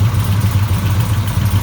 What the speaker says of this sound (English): Sounds like a roller motor. Big roller motor.